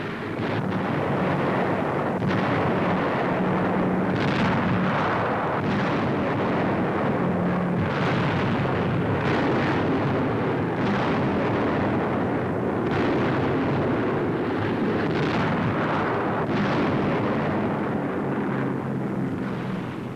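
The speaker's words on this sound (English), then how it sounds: "United States bombers escorted by fighter planes attacked German supply lines feeding Nazi armies around Rome." Bombs burst on railway marshalling yards outside Rome during a 1944 air raid, heard as a dense, rumbling roar of repeated blasts and droning aircraft in old newsreel sound.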